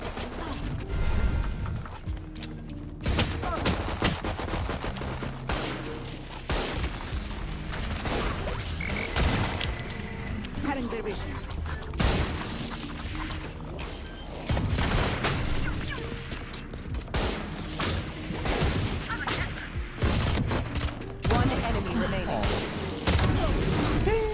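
Gunfire in Valorant comes as dense, rapid bursts of shots and mechanical clatter across a long stretch of play, loud and up close, with voices talking over it at times.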